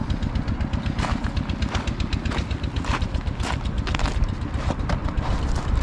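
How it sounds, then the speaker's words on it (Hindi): Motorcycle riding along the Skardu road, its engine droning steadily and loud throughout with constant wind buffeting the microphone, no voices. "आज का ये सफ़र है भी मेरा मोटरसाइकिल पे"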